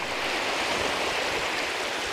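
Sea water washing along a seaside shore strewn with seaweed and debris, a steady broadband rush of surf that holds at an even, fairly loud level throughout with no voices.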